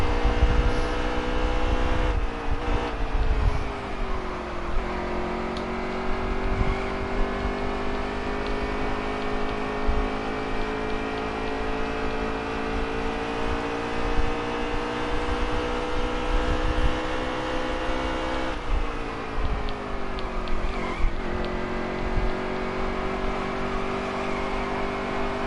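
A car engine runs loud and close throughout a long drive, holding a steady buzzing drone with a few dips and swells as the throttle eases and picks back up, with no voices over it.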